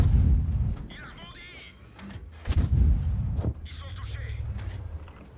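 Heavy tank cannon fire in World of Tanks as an AMX 12 t battles an IS, two loud booming shots with rumbling tails, separated by engine hum, while someone talks over the action.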